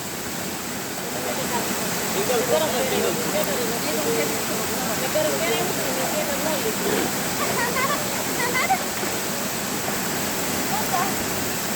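Water splashed about outdoors, a steady broadband rush of churning water lasting throughout, with voices talking over it.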